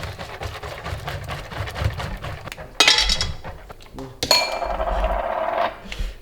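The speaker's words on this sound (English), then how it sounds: "I'm going to whisk it." A whisk beats cream and egg mix in a bowl, a quick run of rhythmic clinks against the bowl followed by a couple of sharper clattering bursts, with faint talk in the background.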